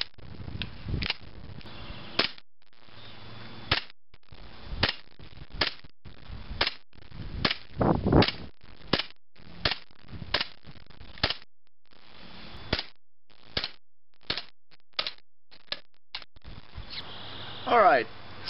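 ASG Glock 19 gas blowback airsoft pistol firing: roughly twenty sharp, snappy cracks in an irregular string, some in quick pairs and others spaced out, with a louder burst near the end.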